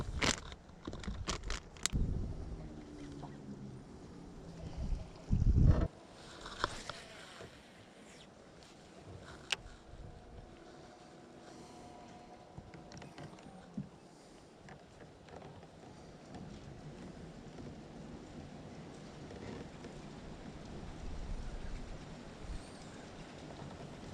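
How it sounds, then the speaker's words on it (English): Strong high wind blowing across a lake near a river inlet, roaring as a steady broadband rush with heavy gusts buffeting the microphone, plus some louder knocks early on, with no talking. "you can hear that wind. How bad it is."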